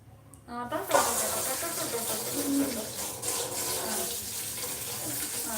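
Tap water runs steadily into a sink while guavas are washed under it, a continuous splashing stream that starts abruptly and stays fairly loud throughout.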